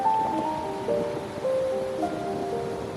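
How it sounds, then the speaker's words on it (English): Ocean waves wash onto a beach at Tisvildeleje in Denmark at sunset, a steady hiss of surf with faint thin whistling tones above it and no voices. "the sound of the waves was so relaxing"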